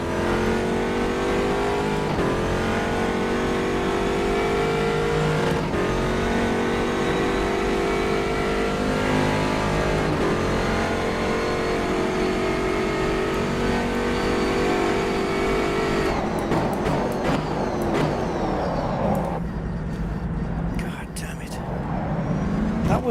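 Race car engine in the rFactor 2 sim, running at sustained high revs with rising and falling pitch through gear changes, loud and steady throughout, easing and breaking up near the end as the car brakes.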